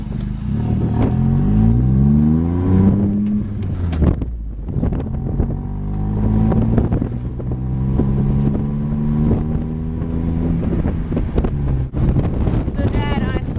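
Smart car with a dual twin split exhaust pulling through low gears, its engine drone rising in pitch, dropping at a gear change and climbing again, heavy wind rumble over the microphone throughout.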